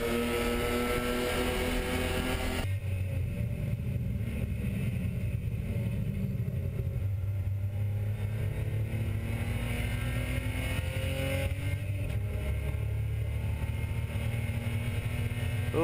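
A pack of SpecE30 race cars duels wheel-to-wheel in a 35-car field at a NASA race, their engines droning and rising in pitch as they pass, a continuous, moderately loud motor roar with shifting tones.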